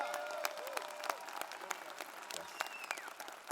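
Convention crowd at a state party convention applauding, a steady, fairly distant wash of clapping with a brief spoken word near the start.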